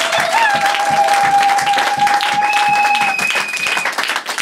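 A church congregation applauds in sustained, dense clapping that fills the room, with a sung or held tone riding over it and some voices mixed in.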